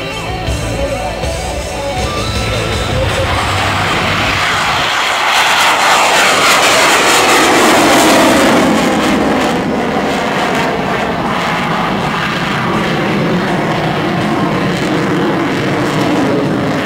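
A MiG-29 jet fighter roars past at an airshow, a loud, sustained engine blast that swells as it passes overhead and then trails off with a sweeping, fading rumble.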